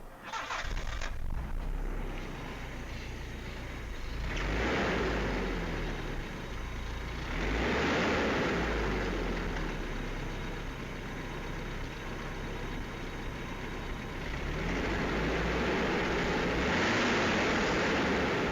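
A 1987 Isuzu Piazza Turbo, laid up for seven years, cranks briefly and fires, then runs rough with repeated revving swells rising and falling over the idle, heard up close with no talking.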